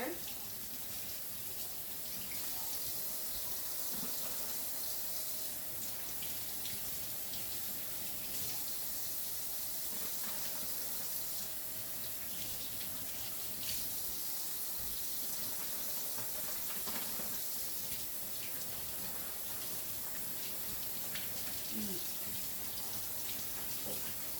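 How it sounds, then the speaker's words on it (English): Steady running cold water from a tap splashes continuously over wild boar jerky held beneath it, with a faint voice now and then in the background. "You wash it in cold water."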